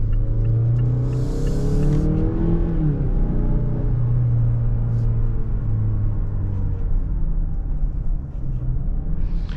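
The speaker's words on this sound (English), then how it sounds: "So it does let me downshift all the way to the first gear, which is nice." A 2022 Mazda CX-9 SUV engine on a test drive, droning steadily inside the cabin as it downshifts, with its pitch dipping and rising across the gear changes under constant road rumble.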